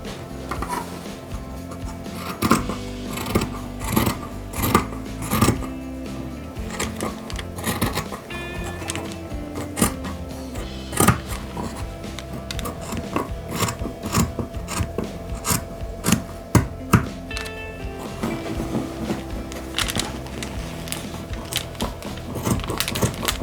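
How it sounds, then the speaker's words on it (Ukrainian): Scissors cut fabric for a sewn toy goose in close, repeated snipping and rasping strokes, with the rustle of cloth throughout and no talk. "Все, підколола і вирізаю з урахуванням припуску"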